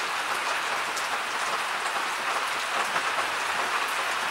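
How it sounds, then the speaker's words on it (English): Rain falls steadily outdoors, a dense, even hiss of drops on surfaces that holds constant throughout with no voices. "It's rainy"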